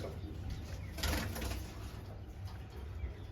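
Madras pigeons cooing faintly at close range, soft repeated low coos over a quiet background with a light brief flutter.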